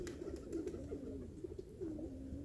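A pigeon coos in soft rolling phrases, close by and repeated several times in quick succession, with faint outdoor background.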